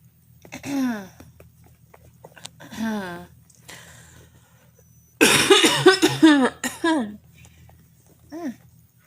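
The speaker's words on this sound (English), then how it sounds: "Coughing like every video." Several harsh coughs, close to the microphone, come in short clusters separated by quiet pauses, the loudest burst near the middle.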